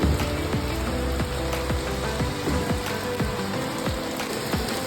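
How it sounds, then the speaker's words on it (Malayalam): Rain falls steadily in a soft, continuous patter, with faint intermittent creaks and squeaks in the background. "അപ്പോൾ ഇപ്പം പെയ്യുന്നുണ്ട് നല്ലൊരു മഴ"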